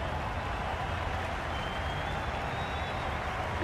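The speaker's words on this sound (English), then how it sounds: "the crowd have joined the party. It's pretty noisy in the ground." A cricket stadium crowd in the Cricket 22 video game roars in a steady, dense wash of cheering and applause, loud and continuous without any voice standing out.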